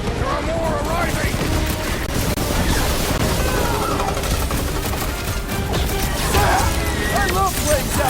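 Rockets and fireworks burst in a chaotic battle in the Guardians of the Galaxy video game, a dense run of loud cracks and explosions lasting throughout amid whistling effects.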